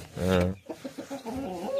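Chickens in a backyard coop, a loud close cluck followed by a run of softer quick clucks and murmurs from the birds, with no speech.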